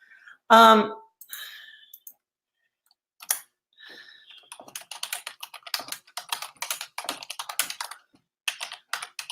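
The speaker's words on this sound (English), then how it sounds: "typing ASMR" Typing on a computer keyboard: after a breathy sigh and a few isolated clicks, quick irregular bursts of key clacks follow, close and fairly crisp.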